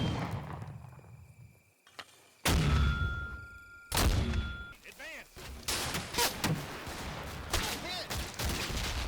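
Mortars firing for effect on cliff-top defenses in a Combat Mission battle: heavy, booming blasts with rumbling decay, two big thuds followed by a rapid string of further explosions and crackling impacts under distant battlefield noise.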